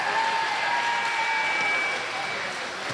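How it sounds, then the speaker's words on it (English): Audience clapping for a performer named Kira at a school international festival, a steady moderate wash of applause that slowly tapers off near the end. "give it up for Miss Kira"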